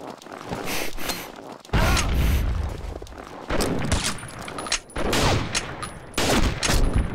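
Gunfire in the Combat Arms video game comes in loud repeated bursts of rapid shots separated by short pauses, close and harsh throughout.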